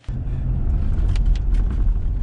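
Steady low road rumble inside a truck cab while driving, a continuous close engine and tyre drone with faint higher hiss, alone with no talk.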